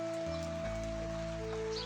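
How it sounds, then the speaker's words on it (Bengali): Heavy rain falls in a steady, soft hiss of drops hitting surfaces, continuous throughout, with a faint low hum underneath. "আজ এত বৃষ্টি পড়ছে সকালবেলা থেকেই"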